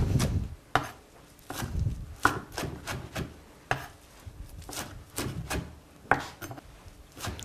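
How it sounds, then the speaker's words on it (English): A knife chopping spinach and fresh herbs on a board by hand for an Iranian herb frittata: brisk, uneven knocks repeated close up, with no talk. "So I'm chopping some spinach for that"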